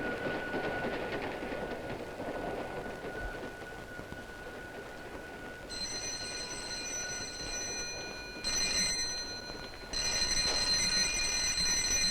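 A train running on rails, with a steady rumble and rattle of wheels on track, then high metallic squealing tones breaking in toward the end.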